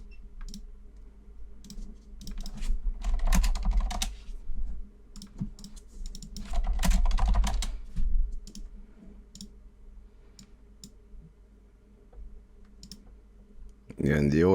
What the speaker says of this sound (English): And he always starts typing.